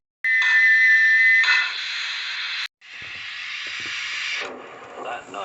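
Steam locomotive whistle on an HO/OO model railway, a loud sustained shrill blast that breaks off briefly and resumes, with a hissing steam tone throughout.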